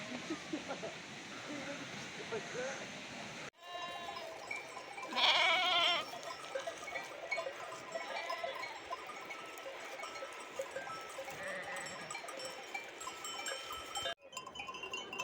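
A flock of sheep bleats across the pasture as a newly arrived ram joins them, calls rising over steady outdoor noise, with one louder burst of bleating near the middle and a voice speaking at times.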